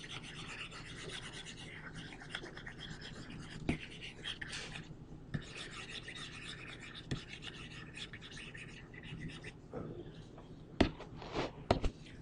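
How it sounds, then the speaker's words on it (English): Writing is rubbed off a board with brisk, uneven scrubbing strokes, a soft dry rasp broken by a few sharp taps and knocks, close and fairly quiet, with no voices. "I need to erase a lot of the stuff"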